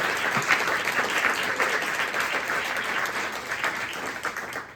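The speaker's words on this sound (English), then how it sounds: "Can we give Zara and Izzy another round of applause?" Audience applause, a dense, steady wash of many hands clapping in a room, moderately loud and sustained before fading at the very end.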